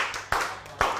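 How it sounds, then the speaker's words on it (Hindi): Brief, close handclaps from an audience, two sharp bursts about half a second apart over a low room murmur. "भरपूर तालियाँ होनी चाहिए इनके लिए"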